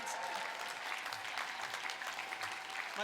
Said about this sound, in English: You've got to clap and you've got to cheer.